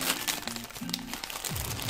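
Plastic wrapper of a McDonald's Happy Meal Snoopy toy crinkles as it is opened, a short close burst of crackling and rustling with a few sharper crunches.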